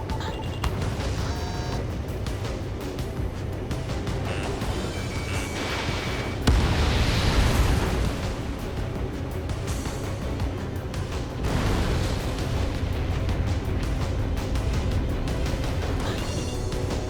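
Bomb explosions in the air combat game Ace Combat 7, heavy booming blasts rumbling continuously with a louder burst midway, loud and dense, no talk over them.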